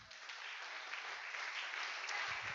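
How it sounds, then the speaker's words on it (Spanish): Congregation applause during a Spanish-language church sermon, a faint, distant wash of steady clapping lasting a couple of seconds. "Dele un aplauso al Señor."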